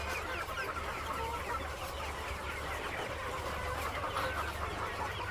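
Young chicks on a poultry farm cluck and peep in a dense, steady chorus, with many birds calling at once against constant barn hum.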